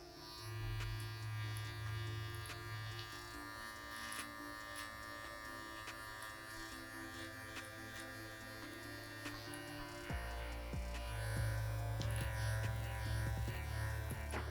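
Electric beard trimmer buzzing steadily as it trims a beard, a close continuous motorized hum that grows louder and heavier partway through as it presses into the hair.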